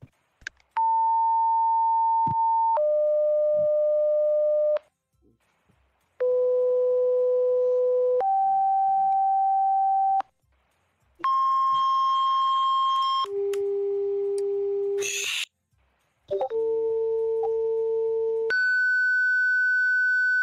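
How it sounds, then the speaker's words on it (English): Fire dispatch alert tones sound as a sequence of long, loud steady electronic beeps, each holding one pitch before jumping to another, with short silent gaps between groups. "You can stand by for tones."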